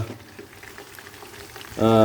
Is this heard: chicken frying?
yes